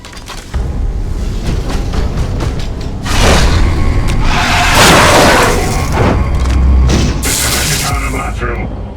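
A detonator explosion in an ammunition dump in Space Hulk: Genestealers, a Warhammer 40k video game: deep booming blasts with cracking bursts build into a long roaring rumble, heavy and close under a constant low drone.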